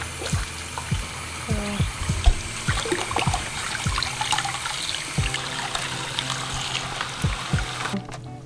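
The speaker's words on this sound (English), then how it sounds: "Most of these things are just rinse them off in soapy water." Juicer parts from a DASH Compact Cold Press juicer are rinsed in soapy water in a sink, with trickling water, close clinks and plastic knocks, and a short pause near the end.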